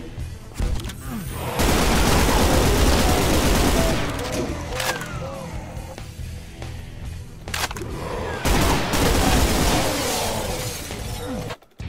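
Dense, rapid gunfire and explosive impacts fill a hectic fight in the first-person shooter Brutal Doom, loud and almost continuous, with shattering crashes scattered through it.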